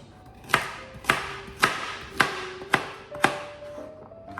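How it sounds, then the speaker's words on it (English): A knife chopping vegetables on a cutting board, six evenly spaced, crisp thuds about half a second apart, close and moderately quiet with no talk. "So peel and chop all your veg."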